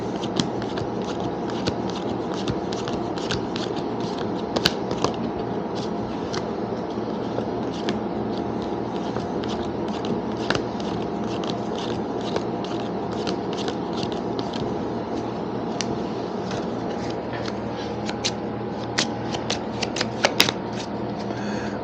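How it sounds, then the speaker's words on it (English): Board game cards for Euphoria being shuffled in a steady, continuous riffle of soft crackling flicks, close and moderately loud with no talk. "Now I'm going to shuffle in deck number 2, and let me do this kind of shuffle."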